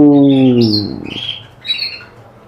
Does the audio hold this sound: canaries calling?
yes